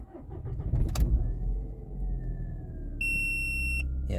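A car engine cranks with no fuel in it, giving a brief whirring churn of the starter. A steady electronic warning chime follows, loud and close, with no voices.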